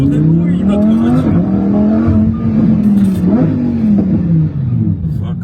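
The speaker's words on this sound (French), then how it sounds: "Ça fait trop de bruit, notre voiture." A supercar engine revs and pulls away loud and near, its pitch rising and falling over several shifts, with people talking over it inside the car.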